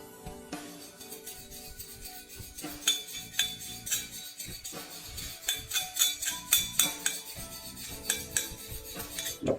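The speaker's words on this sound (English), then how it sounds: "Watch me scratch it with the tip of the screwdriver." A screwdriver tip scrapes and taps against the ceramic-plated cylinder of a Kove 450 Rally dirt bike engine during a teardown, producing close, repeated metallic scratches and clinks in irregular bursts.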